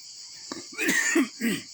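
A person coughs several times in quick bursts, close and fairly loud, with a faint high insect-like hiss in the background.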